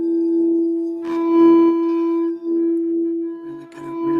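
A healing instrument, rubbed around its outside with a mallet, gives a steady ringing tone that holds and swells, with faint knocks and scrapes of the mallet along the way.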